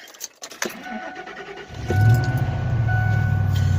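An old bus engine is started: keys jangle and the starter clicks, then after about two seconds the engine catches and settles into a steady, loud idle rumble close by, no talk.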